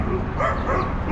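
Dogs bark and yip at a dog park beside the Hudson River at Pier 40 in Manhattan, a brief, loud burst of overlapping barking.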